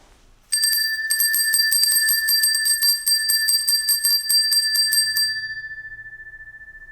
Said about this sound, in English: Please follow the sound of this bell and come and join us.